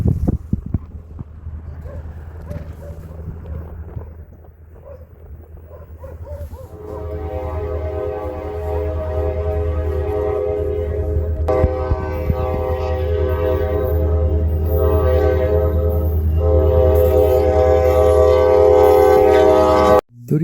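Genesee & Wyoming freight locomotive 3464 leads an eastbound train, its rumble building as the horn sounds a long sustained chord over the rolling cars, growing louder as it nears.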